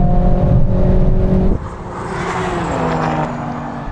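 A Mercedes-AMG A45 and a BMW M340i drag race with loud engine roar close by. Revs climb, then a gear change drops the pitch partway through before the engine pulls hard again.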